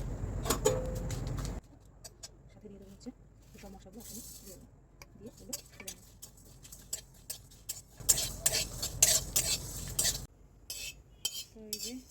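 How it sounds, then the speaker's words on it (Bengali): Dry red chillies roast in a hot kadai for mango pickle, giving bursts of sizzling and scraping with light utensil clinks and stirring, broken by quieter stretches where a person talks. "এই লঙ্কাগুলো ভেজে নেবো"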